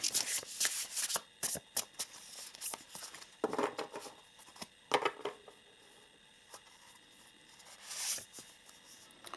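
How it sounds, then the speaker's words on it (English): Oracle cards are shuffled and pulled from a deck nearby, producing bursts of riffling and sliding card sounds with quieter pauses between them. "So let us pull some more oracle cards here."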